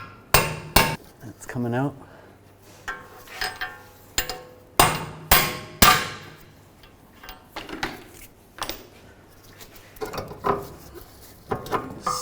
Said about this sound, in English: I'm going to tap the axle out. I'm just using a 17mm socket.